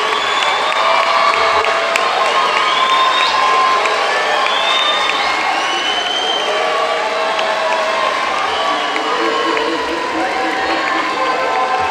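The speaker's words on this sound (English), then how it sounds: "I would ask the graduates to stand and salute with your applause your family and friends" Graduates at a fall commencement ceremony fill a large hall with sustained applause and cheering, a dense crowd roar with whoops rising above it, steady and loud throughout.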